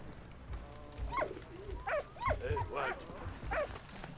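In the World War I game Valiant Hearts: The Great War, a dog barks repeatedly in a loose rhythm, half a dozen sharp, moderately close woofs over low game ambience.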